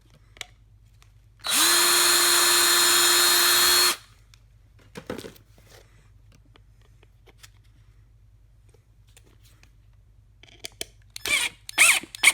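A power drill drives screws into a homemade wooden carpenter bee trap in one continuous loud run of about two and a half seconds, followed by quieter clicks and handling noises in an otherwise quiet space.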